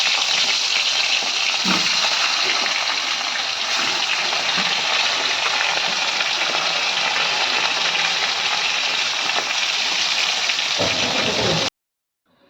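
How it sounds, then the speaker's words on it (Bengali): Tilapia fish coated in turmeric frying in hot oil, giving a dense, steady hiss and crackle that stays loud and close for about twelve seconds, then stops abruptly. "এবার আমি হলুদ মাখিয়ে মাছটাকে ভাজি।"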